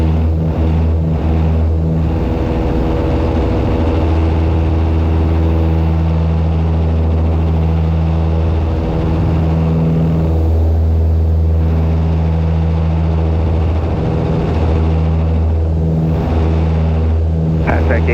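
The twin-engine Piper Aztec drones in flight with fuel bladders newly replaced, giving a loud, constant low thrum with steady harmonic hum, and voices talk over it.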